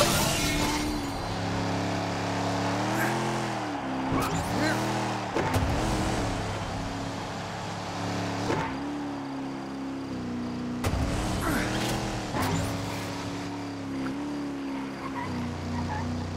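A race car engine in a video game, droning and rising and falling in pitch as it revs and shifts, with scraping skids, tire squeals and crash-like bursts, loud and continuous.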